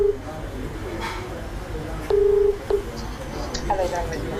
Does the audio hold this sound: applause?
no